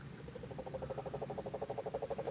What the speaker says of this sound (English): That's a toad. Bullfrog? Something like that